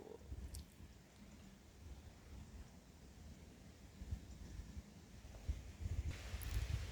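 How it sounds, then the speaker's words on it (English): Soft wind blowing through trees at an outdoor campsite at dusk, a low steady rush with gentle gusts that swell slightly toward the end, quiet and continuous with no voices. "And behind me, the soft wind in the trees, which is coming from behind the trees"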